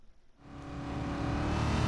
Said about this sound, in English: The drivers are revving their engines for the final time.